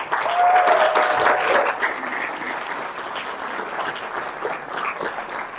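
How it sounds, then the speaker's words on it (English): Audience applauding students at a Poetry Out Loud recitation event, a loud, dense round of clapping that stays steady throughout, with a brief cheer or whistle early on. "You got to give these students a round of applause."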